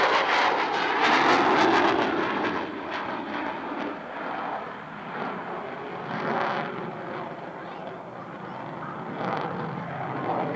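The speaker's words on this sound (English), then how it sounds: "It was putting out more thrust than the aircraft currently weighs." A military jet performs at the 1993 Erie airshow with a loud, sustained roaring rush that swells and fades slightly, and faint voices can be heard beneath it.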